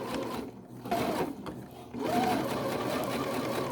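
A sewing machine stitches down a skirt seam in a steady, close whirring run that stops briefly twice and then restarts at an even pace.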